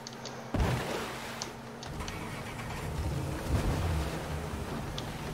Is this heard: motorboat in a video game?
yes